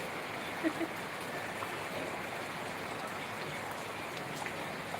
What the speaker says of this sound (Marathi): बघ कसं पाऊस पडतो